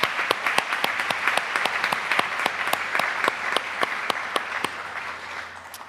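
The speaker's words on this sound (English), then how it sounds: "Please join me in one more round of applause for our Momentum Gold partners." Audience applause at a school district Celebration of Excellence event honoring partners, steady dense clapping with sharp individual claps standing out, sustained and fairly loud for the whole stretch, fading slightly toward the end.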